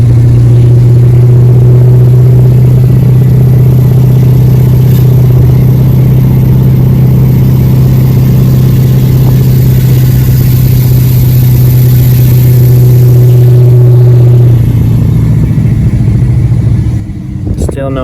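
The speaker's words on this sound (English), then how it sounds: "You can hear the exhaust brake there kicking on." Ford F-250 with a 6.7 Powerstroke diesel and 4-inch straight pipe holds a loud, steady low drone with its exhaust brake engaged, which drops away near the end of the clip.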